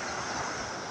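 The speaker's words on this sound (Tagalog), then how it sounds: "Tapos malalaki ng alon mga guys, no. Ang lalaki ng alon." A brief, steady roar of big surf at Patar white sand beach in Bolinao, Pangasinan, broad and noisy with a wash of wind across the microphone.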